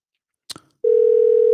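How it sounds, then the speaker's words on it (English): A steady, loud telephone dial tone starts abruptly after a brief click or tap and continues without a break while a call is being placed. "We try to give him a call on the phone."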